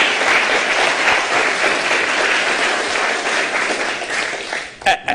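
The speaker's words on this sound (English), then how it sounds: "Can we give CBF a round of applause, please," Loud, sustained applause from a crowd at a congressional candidates' forum hosted by the Chesapeake Bay Foundation, dense clapping holding steady before tapering off near the end with a few scattered final claps.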